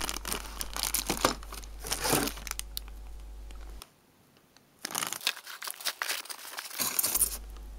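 A plastic bag holding CPU mounts crinkles loudly up close, with crackling bursts that pause briefly for about a second before resuming.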